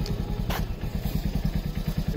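A motorcycle engine idles after starting, a rapid steady thumping putter close by with a brief rattle partway through.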